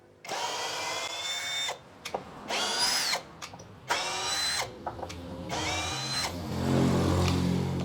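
A Hasston Art.3075-025 cordless drill drives screws into wood in several loud, close bursts of whining motor, each rising and dropping off, with brief pauses between runs and a steadier, heavier spell of driving at the end.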